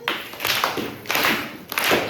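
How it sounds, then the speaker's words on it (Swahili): A church congregation claps hands together in three loud bursts of applause, each swelling then stopping, with short pauses between them and no voices over the clapping. "Pigia makofi."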